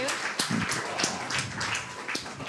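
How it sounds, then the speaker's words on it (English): Applause from a workshop audience, a short, dense patter of clapping close by with a voice briefly cutting through. "If we can have a round of applause for Dr. Eben Alexander and Karen Newell"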